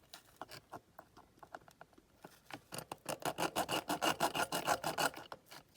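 Rasping file strokes on a die-cast Corgi 309 Aston Martin DB4 chassis, starting sparse and irregular, then settling into a fast, even back-and-forth rhythm up close.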